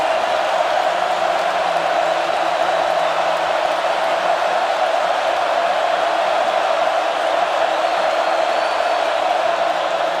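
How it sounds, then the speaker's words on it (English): Packed college football stadium crowd at Florida's Swamp roaring continuously on a third and long, a dense, loud, unbroken wall of cheering with no letup. "But listen to this crowd on a 3rd and long."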